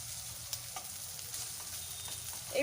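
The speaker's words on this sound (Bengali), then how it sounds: "এক পিঠ ভাজা হয়ে গেছে, এবার আমি উল্টো পিঠটা উল্টে দেবো" Taro leaf paste cakes frying in a pan over a medium gas flame, with a soft steady sizzle, a few small scraping clicks, and a louder burst near the end as a cake is turned.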